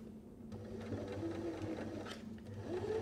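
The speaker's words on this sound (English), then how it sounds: "Pop it in your machine, and I'd suggest a 2mm straight stitch" A sewing machine runs a 2mm straight stitch with a 6mm seam allowance on a fabric face mask, a steady continuous mechanical hum with a low motor drone, close and unbroken for the full three seconds.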